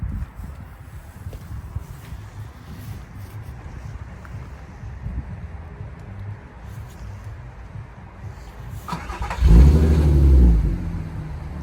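Volkswagen Polo engine fires up and revs loudly near the end after a long stretch of idle and wind noise, with a sudden low roaring surge that holds for about a second before easing back.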